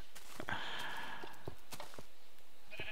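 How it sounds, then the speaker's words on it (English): A high, wavering sheep bleat in Minecraft rings out over a faint background, with a couple of soft, short clicks around it. "Sheep way up there."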